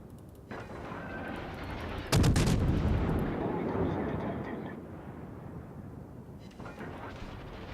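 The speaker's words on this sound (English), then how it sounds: "I'm just watching him though, because he's gonna shoot me any second now" Heavy naval shell fire strikes a cruiser in World of Warships: a sudden loud crashing impact bursts over a continuous rumbling battle din, then a long roaring decay, with a voice talking underneath.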